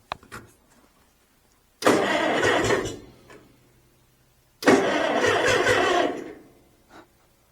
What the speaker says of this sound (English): I haven't started this thing in 6 months, maybe?